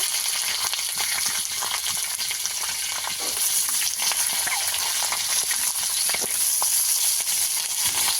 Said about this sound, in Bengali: এই পর্যায়ে মটরশুঁটিগুলো এর সঙ্গে ভেজে নেব